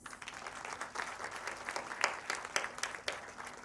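Audience clapping at an alumni summit after a regional English language officer is welcomed, a dense, even roar of many hands with slight swells, no talking.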